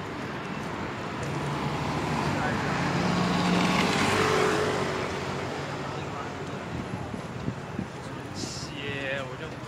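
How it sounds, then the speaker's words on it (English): Road traffic passes by as a broad rushing swell that builds toward the middle and then fades, with faint wind noise and a low background murmur. "More traffic."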